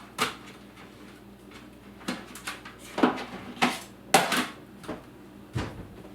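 Plate being taken from a kitchen cabinet, with a series of separate clattering knocks and clacks of the door and dish, close and moderately loud with quiet gaps between.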